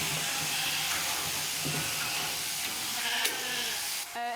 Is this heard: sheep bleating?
yes